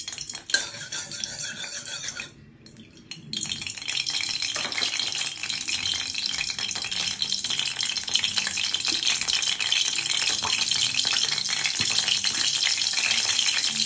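Garlic fries in hot oil with a loud, dense sizzle that drops briefly early on, then surges back and holds steady, with occasional utensil rattles and no voices.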